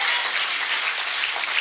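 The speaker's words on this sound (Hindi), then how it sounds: "अरे भाई समझ में आया तो तालियां दो।" Audience applause fills the whole moment, a dense, steady patter of many hands clapping at an even level with no speech over it.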